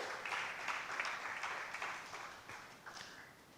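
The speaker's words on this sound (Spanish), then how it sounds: "Dale un aplauso" A church congregation applauding during a sermon, a faint, dense wash of many hands clapping that holds steady and then slowly thins out, with no voices over it.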